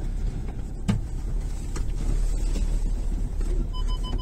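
A car ploughs through a snowdrift on a slippery road, its engine noise rising as it picks up speed, heard close and steady with rumbling, wind-buffeted low noise throughout and no talking.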